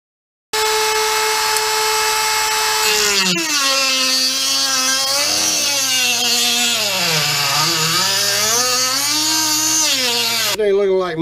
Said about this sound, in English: I'm going to get in here with a little grinder attachment on my rotary tool, and we're going to do a little grinding on this first